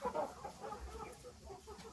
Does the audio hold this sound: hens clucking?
yes